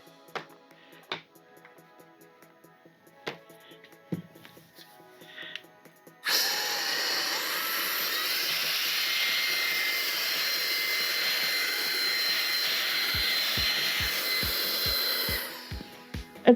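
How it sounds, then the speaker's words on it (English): A K&F Concept BS500M electric blower switches on with a loud, steady whoosh and runs continuously for about ten seconds before cutting off, preceded by quiet handling clicks and knocks. "It's very, very noisy though."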